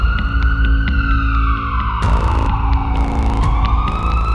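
A wailing emergency vehicle siren, identified as an ambulance, sweeps steadily up and down in pitch, loud and continuous with no talk, as the motorcade halts to let it through.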